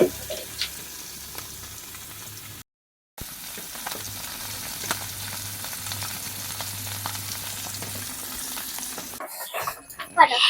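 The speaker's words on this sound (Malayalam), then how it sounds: "ഉച്ചക്കുള്ള ഒന്ന് മാത്രം എടുത്ത് പൊരിക്കും" Fish coated in masala fries in a pan with a steady, close sizzle. It cuts out briefly partway through, and louder clinks and rustles come near the end.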